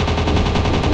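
Rapid machine gun fire from a WW2 dogfight mobile game, a loud continuous burst with no gaps across the whole second.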